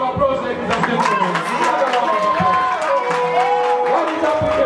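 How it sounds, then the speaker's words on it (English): Loud crowd at the Mr and Miss Independence Zambia 2020 pageant finals, with steady applause and cheering and a voice talking over the noise throughout. "Another round of applause, ladies and gentlemen."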